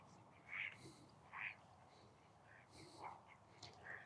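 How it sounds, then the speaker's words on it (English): Colourful ducks of several breeds resting at Champion Lakes in Perth give a handful of faint, scattered quacks at a distance over a soft outdoor background with quiet voices. "See the ducks"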